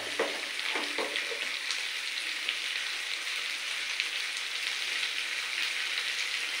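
Fish frying in a pan of oil, a close, steady sizzle and spitting crackle running throughout, with a few soft knocks near the start and no voices.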